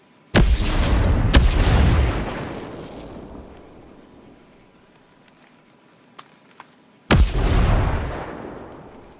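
Frag grenades explode in a Ghost Recon Breakpoint PVP match. Two sharp, loud blasts land close together, each followed by a long rumbling decay. A few faint clicks sound in the lull before a third heavy blast near the end.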